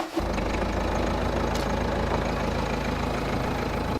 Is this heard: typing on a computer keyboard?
no